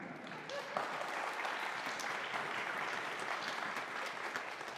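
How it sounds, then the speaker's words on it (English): A concert audience at a Pride bands conference performance in Houston, Texas applauds, a steady dense patter of many hands clapping that holds an even level throughout, with no speech over it. "Clap, clap, clap, clap."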